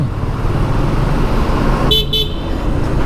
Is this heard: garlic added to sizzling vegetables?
no